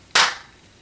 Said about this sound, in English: she would just do one clap